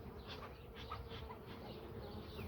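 A thick, unbroken drone of worker honey bees crowding hive frames, steady and fairly quiet, with individual bees zipping past close by over the massed hum.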